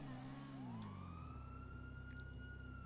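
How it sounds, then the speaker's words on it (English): Emergency sirens in Grand Theft Auto V wail continuously, rising and sweeping over a steady low engine rumble, fairly loud and close, with no talking. "There are sirens around."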